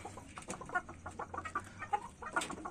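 Native Indonesian village chickens (ayam kampung) cluck in a busy, overlapping stream of short calls, several birds at close to moderate distance, with no talk over them.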